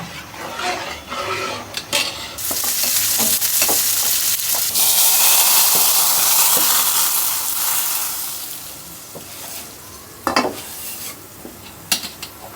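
Tempering, or baghar, hits a pot of reheated food with a loud burst of sizzling hiss that swells and fades over several seconds, set among clinks and scrapes of a spoon against the pot.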